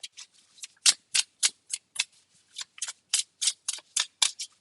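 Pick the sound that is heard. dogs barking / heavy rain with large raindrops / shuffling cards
shuffling cards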